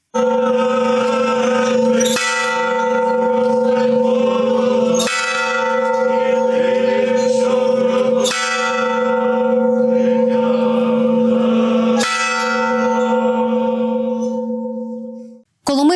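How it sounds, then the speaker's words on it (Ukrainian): A memorial church bell tolls repeatedly over a monastery, four or five loud strikes with long ringing overtones sustaining between them, fading to silence at the end. "а над монастирем лунав дзвін пам'яті"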